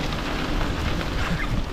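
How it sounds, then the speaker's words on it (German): Rain falls during an e-bike tour on the Alpe Adria cycle route out of Salzburg, a constant close hiss of drops and spray with a slightly uneven, gusty texture and no talking. "Der Regen wird weniger"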